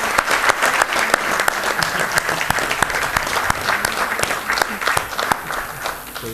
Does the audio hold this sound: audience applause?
yes